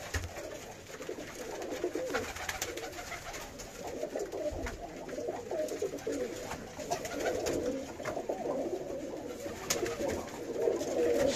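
Birmingham Roller pigeons fill a loft with dense overlapping coos, a soft continuous murmur that rises and falls. Light shuffling and occasional taps sound close by, and no one speaks.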